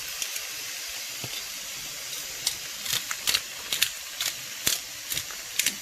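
Chicken seasoned with Tajin sears in a hot pan, giving a steady faint sizzle broken by a scatter of sharp crackles and pops.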